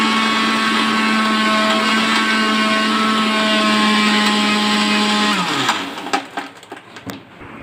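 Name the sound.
mixer grinder blending yogurt lassi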